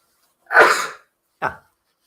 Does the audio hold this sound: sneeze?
yes